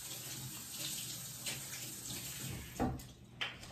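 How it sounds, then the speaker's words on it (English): Tap water runs steadily over two small hermit crab bowls being rinsed at a sink, with brief splashy clatters near the end as the bowls move under the stream. "So we have two little of their bowls. I'm gonna rinse them off really quickly."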